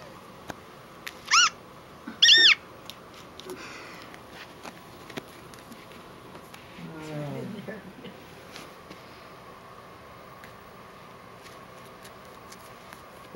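Two short, high-pitched electronic meows from an iPod Touch in quick succession while Siamese kittens play, then a lower drawn-out mew a few seconds later, over a quiet room background.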